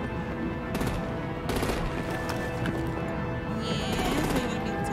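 Rapid bursts of gunfire from Batman: The Enemy Within crackle over a steady rumbling background, arriving as several short volleys, fairly loud and close, with no one talking.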